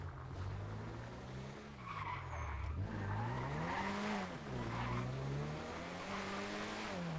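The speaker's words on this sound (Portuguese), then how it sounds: "Batendo meu carro." A car skids in a racing video game, with a long wavering tire squeal over a steady engine drone that rises and falls for several seconds, loud and continuous.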